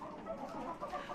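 Chickens cluck softly and continuously in a dark coop, faint murmuring calls with no voices over them.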